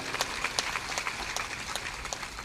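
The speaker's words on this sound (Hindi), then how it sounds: "ताली बजा दो।" Audience clapping at a Hindi spiritual discourse led by a saint, a steady patter of moderate applause with sharper claps standing out over about two and a half seconds.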